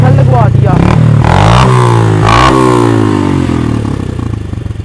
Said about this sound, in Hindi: इसके अंदर फैसल भाई पाक चाइना का ऊंची बेस वाला स्पेशल लगवा दिया